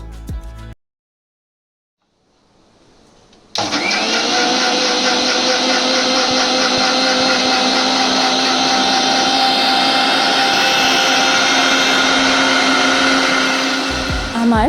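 Electric blender grinds fresh mint leaves with water into a smooth paste for a summer mint sharbat, a loud steady whirring motor that starts after a brief quiet pause and runs continuously to the end.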